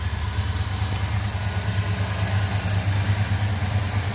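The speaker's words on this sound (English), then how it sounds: "Ooh, fired right up. That's nice. Idle's right where it should, too." A Ford V8 engine from a Mustang idles steadily just after starting, a constant low rumble with an even throb close by, with no revving and no one talking.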